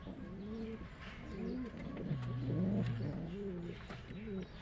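Pigeons coo repeatedly in a loft, with overlapping low rolling calls, one longer steady coo in the middle, and chirps over a constant background murmur.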